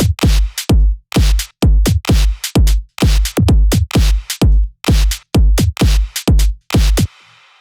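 A loud, fast electronic drum pattern made in Ableton with heavy distortion, crunchy kicks and snares hitting in a steady driving rhythm, ending with a brief noisy tail.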